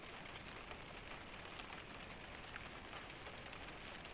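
Steady rain falls outside a cabin during a Scandinavian storm, a soft, even hiss of drops on surfaces, faint and unbroken throughout with no voices.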